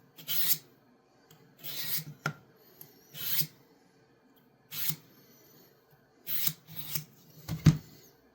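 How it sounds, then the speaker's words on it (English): Small blade of a two-blade jack knife being freehand sharpened on a stone: a series of short scraping strokes repeating in bursts with pauses between, close and fairly quiet, with no talking. "My freehand sharpening is iffy at best."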